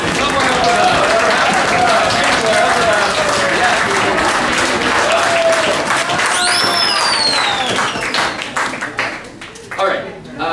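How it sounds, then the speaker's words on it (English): A wedding audience stomps their feet and claps their hands in a loud, dense, sustained roar of applause that fills the room for about eight seconds before thinning out, with a few voices shouting over it. "if people can please stomp their feet and clap their hands"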